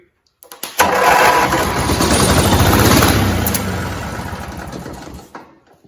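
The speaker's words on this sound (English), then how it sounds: "let's see if we can get this thing to start. And if we can get it to start, let's see how it runs." Cub Cadet 482 lawn tractor with an opposed-twin engine cranks and starts, a loud, close, rough engine roar that holds for several seconds and then cuts off sharply.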